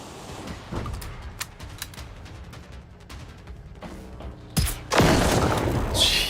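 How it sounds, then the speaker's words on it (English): A railgun-like weapon in Generation Zero, with a charging whine building into a sudden loud blast and a booming, crackling roar after scattered quieter shots. "It's gotta be a railgun, right? Because it's got a charge to it."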